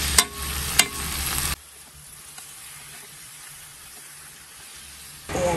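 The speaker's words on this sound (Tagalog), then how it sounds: "kumukulo na ang ating patoge, ginisang toge" Bean sprouts with a little pork sautéing in a pan for ginisang toge make a loud, close hiss and sizzle, with a couple of stirring clatters. It drops to a quiet background for several seconds and then the sizzle surges back.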